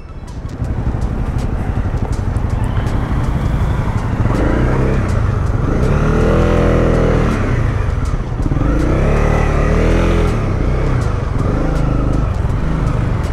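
Honda CB250R motorcycle ridden on the road, its engine droning steadily and loudly throughout with wind rush, rising in pitch twice as it revs up; no talk over it.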